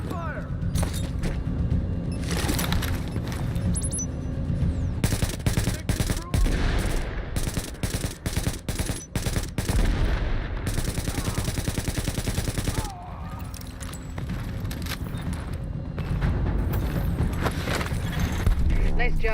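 Rapid bursts of automatic gunfire and single shots from The Division video game, loud and close, with dense volleys running through most of the stretch and brief lulls between them.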